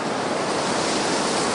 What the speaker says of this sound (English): Autumn arrives, bringing cool breezes that rustle across the hillsides.